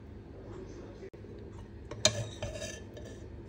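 Mutton curry is served onto a metal plate, with a sharp metallic clink and a few light scrapes and taps of the serving utensil against the dish, quiet and close.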